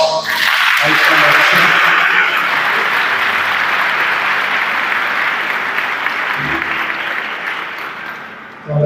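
Congregation applauding during a baptism service in a church, a loud sustained burst of clapping that slowly fades toward the end.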